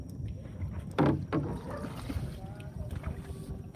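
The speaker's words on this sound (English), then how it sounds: "We have a Hawaiian pole that he just uses to push the boat in." A wooden boat nudged toward a Philippine shore by a long Hawaiian push pole, giving soft knocks and water sloshes in steady wind, with a couple of louder thumps near the start and a faint voice underneath.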